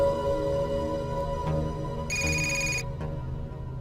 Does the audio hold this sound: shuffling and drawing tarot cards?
no